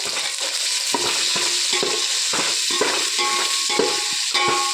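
Three large onions frying in a little oil for mushroom biryani, with a constant bright sizzle broken by regular scrapes and taps of a spatula against the pan, close and fairly loud.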